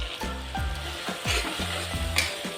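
Ginger-garlic paste with salt, turmeric and cumin powder sizzles in hot oil with fried onions for a rohu fish curry, while a spatula scrapes the pan in steady repeated strokes.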